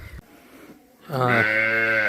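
A Tiruvannamalai breed native cow gives a loud, sustained moo-like call lasting about a second, close to the listener, after a quieter stretch of faint background noise.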